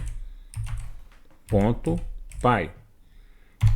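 Fingers tap out a command on a computer keyboard, a short run of quick, light clicks up close, followed by someone speaking.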